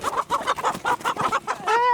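Chickens cluck in quick, close bursts on a small backyard chicken farm, a rapid series of about a dozen clucks ending in a longer drawn-out call, loud and near.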